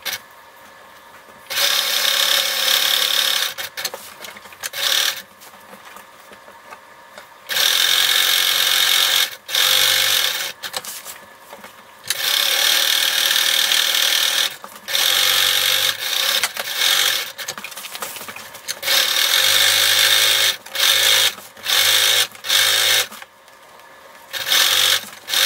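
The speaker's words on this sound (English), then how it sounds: "Now you are going to edge stitch around the whole trapezoid" A sewing machine edge stitches around an apron in repeated bursts of steady, close whirring, separated by short pauses.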